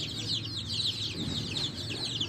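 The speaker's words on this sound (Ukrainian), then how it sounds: "Так, ці курчата у нас їдять," Nineteen young chicks feeding on wheat grits under a roof on a cold, rainy day, a continuous chorus of high, soft cheeping and peeping close by, with quiet background noise beneath.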